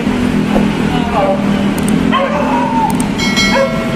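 Dogs bark and yip intermittently, several short calls scattered over a constant background of chatter and ambient noise.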